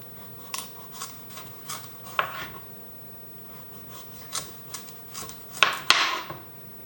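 A knife works through a pumpkin on a cutting board: scattered short scraping and slicing strokes, with a few sharper cuts and knocks near the end, close and fairly quiet, with no talking.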